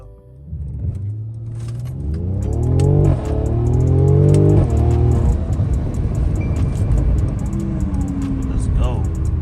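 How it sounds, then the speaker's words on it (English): A Mercedes C43 AMG W205 engine revs up hard and launches from a standstill, rising through the gears with loud climbing whines, heard from inside the cabin, with faint rattles. "Launch from inside the car, and here we go."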